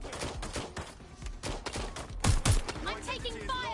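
Bursts of gunfire from a Watch Dogs Legion firefight, several sharp shots and rapid volleys rising loudest midway through, mixed with shouting voices and game noise.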